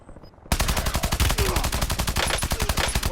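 Rapid automatic gunfire in Call of Duty Warzone Resurgence bursts in after a brief quiet start, a loud, evenly spaced rattle of shots that keeps going to the end.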